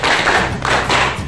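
A classroom of students claps together during a microteaching lesson, broad loud claps landing in two close bursts near each other.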